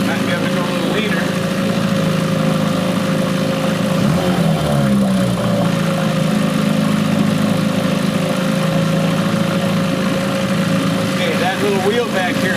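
An Evinrude 4hp Excel outboard motor idles with a steady hum, dipping briefly in pitch partway through as its idle speed is adjusted, then running evenly again. Close and continuous.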